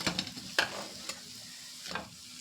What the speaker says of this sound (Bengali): বাকিটাকেও একইভাবে আমি পকোড়াগুলোকে ভেজে নেব